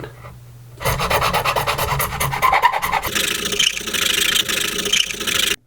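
A steady metallic rasp of filing down the 12th fret on a Fender Mustang guitar, continuous strokes close up, shifting to a brighter, harsher scrape partway through before stopping abruptly.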